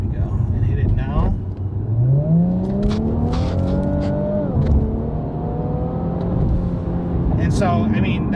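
An Infiniti Q50 Red Sport in Sport Plus mode pulls hard from low speed, its engine note climbing steadily through the revs before easing off. Someone talks over the loud, close engine sound throughout.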